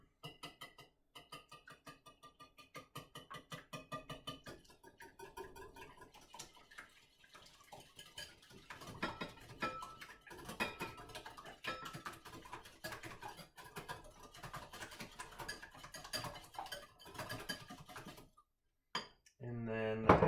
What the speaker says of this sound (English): And then I'm just going to whisk it.